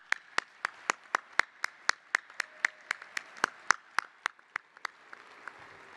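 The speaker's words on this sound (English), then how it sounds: "let's give them another round of applause" Steady, rhythmic clapping for graduating students at a college convocation ceremony, evenly spaced claps that sound like a few hands in unison at moderate level, fading toward the end.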